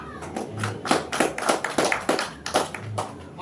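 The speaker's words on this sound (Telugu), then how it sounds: "చప్పట్లు కొట్టాలి గట్టిగా" Scattered crowd applause at a prize-giving event near Vontimitta, a ragged burst of claps that swells and fades over a few seconds, fairly close.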